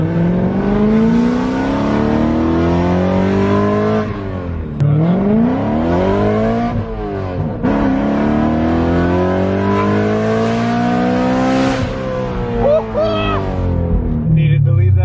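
A car engine revs up and down repeatedly, rising and falling in pitch with sharp exhaust pops between pulls, loud and close throughout.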